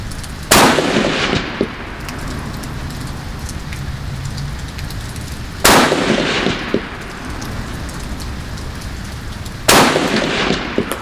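Three sharp, loud rifle shots fired at a 200-yard target, spaced a few seconds apart. Each crack is followed by a short echo, over a steady hiss that sounds like rain.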